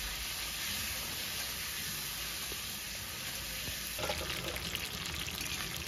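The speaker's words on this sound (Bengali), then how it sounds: "এখন কড়াইতে যে তেল আছে সেই তেলের মধ্যে ফুলকপিগুলো একটু লাল করে ভেজে নেব" Cauliflower florets frying in mustard oil in a wok, a steady, dense sizzle and crackle that holds close and even throughout, swelling slightly louder toward the end, with no talking.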